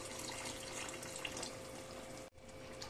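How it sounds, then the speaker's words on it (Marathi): Water poured from a tap or jug into a pot of marinated, salted chicken for pulao, a steady close splashing stream that stops briefly near the end and then resumes. "थोडंसं पाणी घालून घेऊ"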